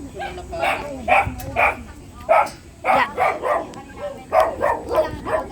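A dog barks repeatedly in an outdoor neighbourhood, sharp close barks coming in irregular bursts mixed with yips and whimpers, with people's voices in the background.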